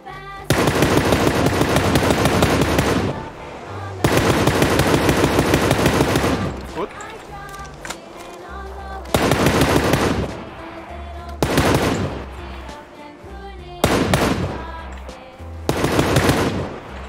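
Bursts of automatic machine-gun fire in a PUBG zombie-mode match come in several long, dense volleys, each lasting a few seconds, with short gaps between them.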